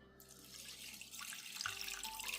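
A tap runs steadily into a pot as water is poured over rice for cooking, a continuous close hiss of flowing water that grows slightly fuller toward the end, no voices.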